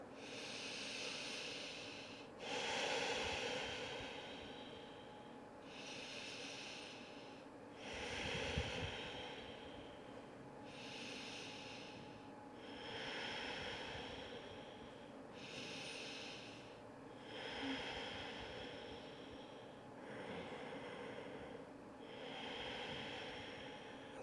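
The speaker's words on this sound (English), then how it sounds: "Five more deep breaths here." Slow, deep yoga breaths drawn in and let out through the nose, a steady rhythm of about eight close, airy inhales and exhales with no talking.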